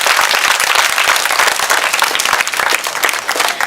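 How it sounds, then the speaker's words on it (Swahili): Loud, dense applause from a school audience for a pupil's poem, close and continuous with no voices over it. "Tumpigie makofi."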